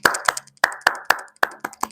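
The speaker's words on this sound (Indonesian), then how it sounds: "Terus tepuk mantap 3 kali." A classroom of students claps in a rhythmic pattern, three claps in a row repeated in sets, crisp and close with brief pauses between groups.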